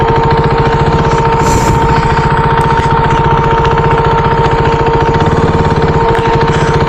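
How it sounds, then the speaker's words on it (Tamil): Modified motorbike engine running near the microphone, a loud, steady idle with a rapid, even thumping pulse throughout and no talking. "வண்டி சவுண்டு தான் நல்லா கேட்டுட்ருக்கு"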